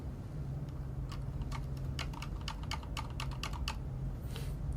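Rapid clicky keystrokes on a mechanical gaming keyboard, close and steady, in quick irregular runs with no talking.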